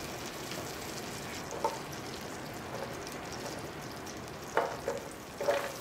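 Butter and vegetables fry on a home hibachi griddle with a steady, rain-like sizzle, close by, broken by occasional louder spatters and scrapes, with no talking.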